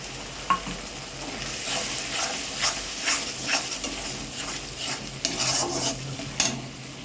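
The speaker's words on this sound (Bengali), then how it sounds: "এবার দেবো পালং আর কাঁচা লঙ্কা পেস্ট করা।" Spinach and green chili paste frying in a pan for a Bengali egg curry, steady sizzle with repeated scraping stirs of a utensil against the pan, close and continuous.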